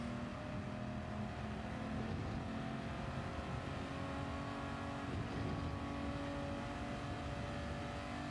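Maserati Merak SS racing in Gran Turismo 7, a continuous engine drone with steady harmonic tones held under load, sustained and loud without any speech.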